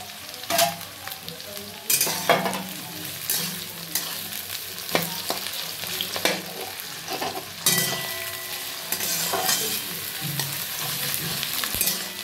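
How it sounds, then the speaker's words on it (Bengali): Onions and tomatoes fry for a mutton and potato curry, with a loud close sizzle broken by repeated spatula strokes and scrapes in uneven bursts, and no one talking. "এবার ভালো করে ভেজে নিচ্ছি। পেঁয়াজটা একটু সামান্য একটু হালকা ভেজে এবার দিয়ে দেবে টমেটোগুলো।"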